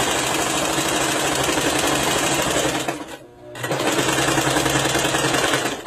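A sewing machine runs a straight stitch down a garment hem, a loud, steady mechanical whir that cuts out briefly mid-way with a short pause before the rapid stitching resumes.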